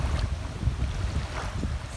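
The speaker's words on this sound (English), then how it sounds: "it's a bit more windy" Wind blows across an open lakeside beach campsite in Massasauga Provincial Park. A steady, low rumbling gust buffets the microphone, with a faint wash of water underneath and no speech.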